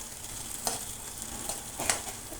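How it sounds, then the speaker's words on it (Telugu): Soaked moong dal is stirred into hot tempering in a pan for a ponnaganti greens dish, a quiet steady sizzle with a few soft scraping stirs and no talk. "నానబెట్టిన పెసరపప్పు ఈ పోపులో వేసి కలపాలి ఇట్లా"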